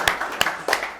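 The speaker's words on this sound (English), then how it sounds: "Clap for him." A few scattered handclaps from an audience cheering on a rapper who has just freestyled in a singing class, with three separate claps spread across a single moment.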